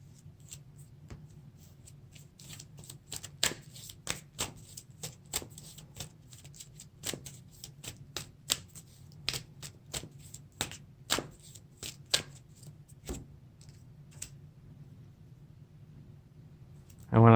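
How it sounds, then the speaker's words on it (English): Playing cards for a Lord of the Rings card game are handled at a tabletop, giving a long run of crisp, close clicks and snaps at an uneven rhythm over a faint low hum. "this card should have gotten shuffled back into the deck"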